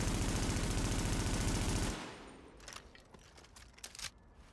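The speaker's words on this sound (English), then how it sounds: "So let's just shoot a wall and see what happens." In The Division, a video game, a rapid automatic burst of gunfire hits a wall for about two seconds, followed by scattered impact clicks and echoing debris.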